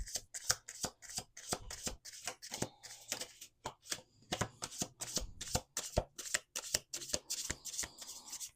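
Playing cards riffled and shuffled by hand, rapid flapping bursts in quick rhythmic succession, close and clear with no talking.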